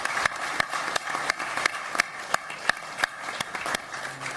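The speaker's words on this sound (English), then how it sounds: "Please give them a loud round of applause." Audience applause after a conference session on military capability development: crisp, evenly spaced claps at a steady rhythm, with the nearest clapper standing out over a thinner spread of applause.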